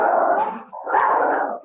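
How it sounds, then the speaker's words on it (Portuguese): Dogs, including a small pinscher, barking and howling outdoors in two sustained, fairly loud bursts with a brief dip between them, with no talk. "tem algum cachorro latindo"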